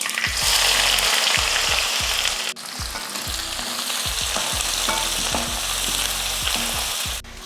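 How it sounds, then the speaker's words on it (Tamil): About 100 g of small onions fry hard in hot oil with fenugreek, mustard seeds, urad dal and curry leaves for a Tamil kara kulambu. A loud, continuous sizzle is broken by regular spatula scrapes, with no talking. "காரக்குழம்புக்கு இந்த மாதிரி நல்லா வெங்காயத்தை நல்லா வதக்கிக்கோங்க"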